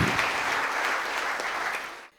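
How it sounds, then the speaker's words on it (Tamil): Brief burst of crowd applause at a Deepavali pattimandram debate and comedy show, sustained clapping for about two seconds before cutting off abruptly. "நீங்கள் ஒரு பெரிய கரகோஷம் கொடுக்கணும்"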